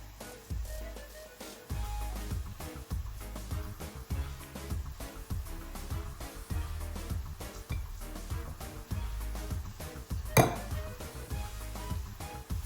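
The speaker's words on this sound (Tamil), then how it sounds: "உருளைக்கிழங்க நசிச்சு அதை பதத்துக்கு எடுப்போம்" Boiled potatoes are mashed in a pot for homemade cutlets, giving a steady run of rhythmic dull thumps and light clinks of the masher against the metal, close and repeated with no talking.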